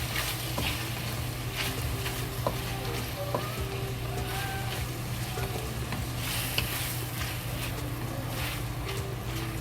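Sliced pork and mushrooms stir-fry in a wok with oyster sauce, a constant loud close sizzle broken by light scrapes and taps of the spatula, no speech.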